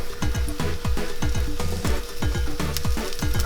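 Vegan plant-based fritter batter spits and crackles in hot oil, a dense, loud, continuous sizzle with rapid popping bursts, close up with no voices.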